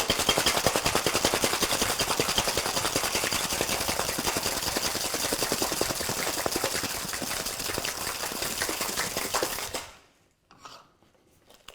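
Ice rattles hard inside a cocktail tin in a fast, loud, continuous shake lasting about ten seconds, then stops abruptly, leaving a few faint clinks.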